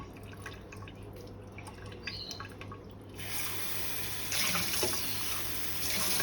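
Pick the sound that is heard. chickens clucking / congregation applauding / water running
water running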